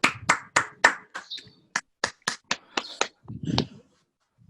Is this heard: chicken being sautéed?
no